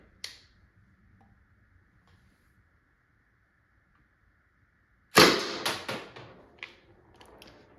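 A Byrna SD less-lethal launcher fitted with a lighter, longer valve spring fires once with a sharp, loud pop, followed by a few quick mechanical clicks and rattles; a faint click comes earlier over a quiet background hum.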